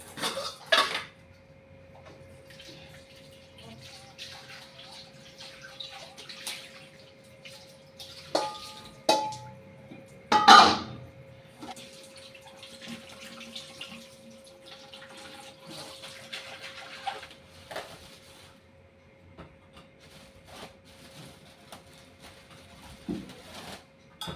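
Three clay oil lamps being washed with water, clinking and knocking of hard earthenware against each other and a vessel, with splashes and trickling water in irregular bursts, one louder clatter near the middle.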